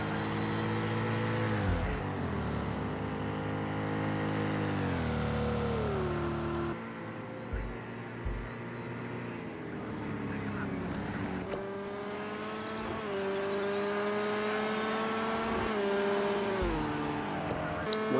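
Corvette GTE race cars power-slide around the Long Beach street circuit in a racing game, their engines revving and shifting through rising and falling pitch with loud, close exhaust notes and several abrupt gear changes.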